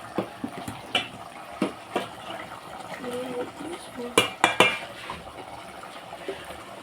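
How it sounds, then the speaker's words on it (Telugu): Chili powder being mixed by hand into vegetable pieces in a bowl, giving scattered soft stirring rustles and a few sharp clinks of utensil on dish, with a cluster of louder knocks near the end. "తర్వాత ముక్కలకి సరిపడా మిక్స్ చేసుకోవాలి ఫ్రెండ్స్."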